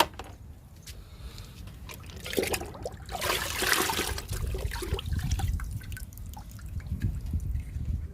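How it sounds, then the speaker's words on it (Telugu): Liquid fertilizer streams from a watering can onto brinjal plants in a garden, a continuous splashing pour that swells in the middle and then keeps trickling, close and fairly loud. "వాటర్ క్యాన్లో ఉందండి వంగ మొక్క లిక్విడ్ ఇస్తున్నా"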